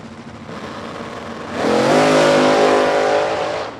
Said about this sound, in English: Rick Korn wiggling the back into that race car and wisely dropped out of the throttle